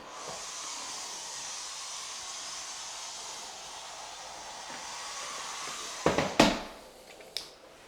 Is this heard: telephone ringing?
no